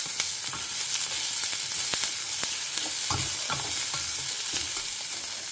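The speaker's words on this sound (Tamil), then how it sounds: "உப்பு ஆட் பண்ணால் சீக்கிரமாக வெங்காயம் வதங்க ஆரம்பிக்கும்" Onions sauté with salt in a pan, giving a continuous close sizzle broken by repeated scraping stirs and soft knocks of a spatula. No one speaks.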